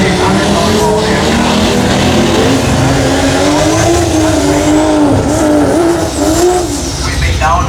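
A race car howls along the far side of the track at WillowBank Raceway on a drag racing finals day, its engine loud and sustained with shifting pitch and some tire noise, while a commentator talks over it.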